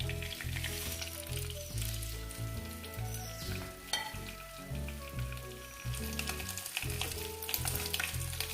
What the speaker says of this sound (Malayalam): താളിക്കുന്നതിന്, കടുക് വറക്കുന്നതിനുള്ള സാധനങ്ങളെല്ലാം ഇടാം